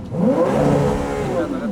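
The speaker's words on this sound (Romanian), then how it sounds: "să auzim evacuarea, dacă se aude ceva" A short burst of Ferrari V6 engine revving, with the turbos whirring over a mid-pitched exhaust rasp that climbs and then eases back, close and fairly loud.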